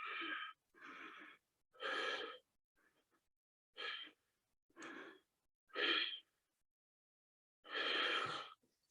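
Slow, steady breathing during a held yoga balance pose with one leg extended, about seven separate breath sounds of varying length spaced through the stretch, close and fairly quiet with no talking.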